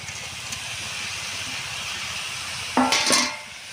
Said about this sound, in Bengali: ভেজে রাখা আলু দিয়ে দেব।